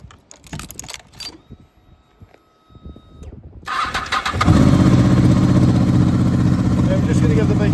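A 2007 Honda VFR800 motorcycle cranks over and its engine catches about halfway through, settling into a loud, steady idle with a dense, continuous rumble. Light handling noises come first, and no voices are heard.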